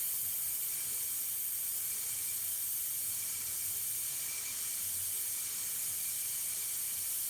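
Airbrush running with the air pressure turned up high: a constant, bright, close hiss of air that holds evenly throughout with no talk.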